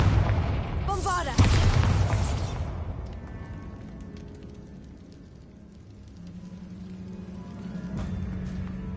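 Spell explosions in Hogwarts Legacy produce a loud booming blast with crackling debris near the start, followed by a long rumbling decay and lingering game ambience.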